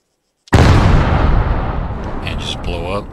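A burning barrel blows up in a video game with one sudden, loud, close blast, then a long rumbling decay. Faint crackles and debris come through as it fades, and no one speaks.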